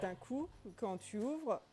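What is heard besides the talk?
No distinct noise like a dog, phone or traffic.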